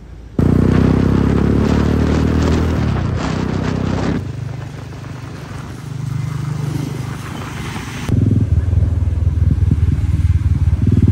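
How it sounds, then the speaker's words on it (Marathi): Royal Enfield Bullet motorcycle engine running close by, a loud steady low thumping idle that shifts in level as it revs, with wind noise and no speech. "मी बुलेट घेतोय"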